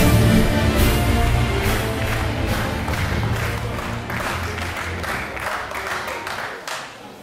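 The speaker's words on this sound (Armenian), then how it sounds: "Ծափերը ավելի ուժեղ" Wedding banquet guests applaud the newlyweds in a loud, dense round of clapping from a big crowd, steady at first and fading a little toward the end, with some crowd noise mixed in.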